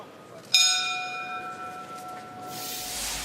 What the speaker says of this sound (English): So Bell goes for the start of the round